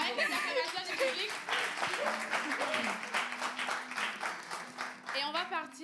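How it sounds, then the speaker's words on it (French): Studio audience clapping and cheering on a live French variety show, with children's voices and excited shouts mixed in over scattered, uneven applause. "on va t'installer avec les acclamations du public."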